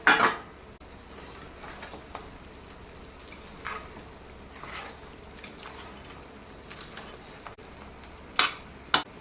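A spoon stirs sheep head and leg curry in a cooking pot, giving sparse scrapes and metallic clinks spread over several seconds against a quiet background, with a couple of sharper knocks near the start and end.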